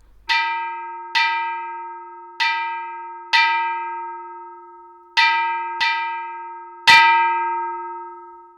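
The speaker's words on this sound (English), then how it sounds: "She climbed up to the fire tower and rang the fire bell with all her strength." A fire bell on a fire tower is rung hard, seven sharp metallic strikes at uneven intervals, each ringing out with a long sustained decay, the last one loudest and harshest, with no other sounds around.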